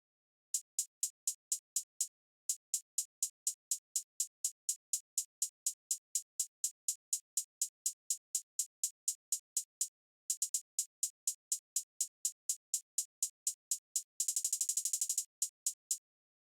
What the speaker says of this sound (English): Next is the hi-hat.